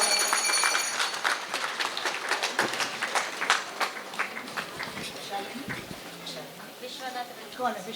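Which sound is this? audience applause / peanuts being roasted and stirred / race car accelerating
audience applause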